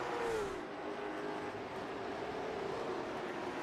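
Late model stock cars race around the oval at Kern, their engines a distant, steady roar blended into a continuous wash of track noise.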